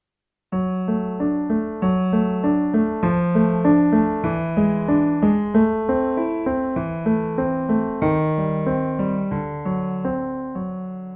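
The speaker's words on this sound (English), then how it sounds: "I also like to use a technique called finger pedaling" Piano playing a piece with finger pedaling, a smooth, connected passage where notes overlap slightly without sustain pedal, steady rhythm, close and clear, no voices.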